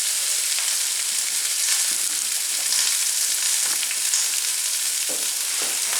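Drained pasta tipped into a pan of frying chickpeas and rosemary, a loud, steady, close sizzle with a few soft scraping knocks.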